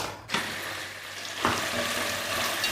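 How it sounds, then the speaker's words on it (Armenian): Onions frying in a pan on a gas stove, a close, steady sizzle broken by a couple of sharp stirring clicks. "Մինչև դանդաղ դա տապակվի,"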